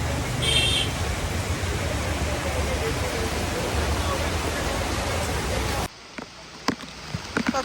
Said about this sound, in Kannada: ಎಂತ ಮಳೆ, ಎಂತ ಮಳೆ